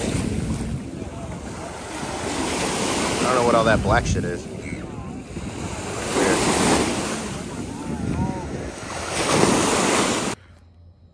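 Ocean waves surge and break on a beach in rolling swells, with heavy wind buffeting the microphone and a person speaking briefly over the surf.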